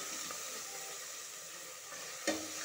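Mutton curry with curry leaves stirred in a pan, giving a steady soft sizzle with light scraping and one sharper clink of the spoon near the end.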